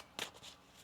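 A quick, faint riffle of tarot cards being shuffled, a short papery flutter then a softer trailing rustle.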